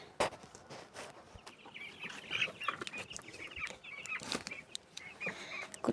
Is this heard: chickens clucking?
yes